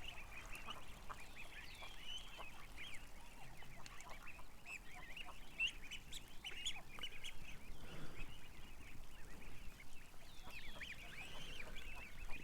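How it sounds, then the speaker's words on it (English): Small female goose honking among ducks and ducklings, short calls scattered over a steady outdoor bird chatter, moderately faint and continuous with no talk. "That's a tiny little goose. Must be a little female."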